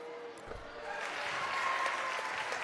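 Applause in a high school gym during a boys' varsity basketball game between De Pere and Bay Port: steady clapping from the crowd and band builds and holds, fairly distant, with faint voices underneath.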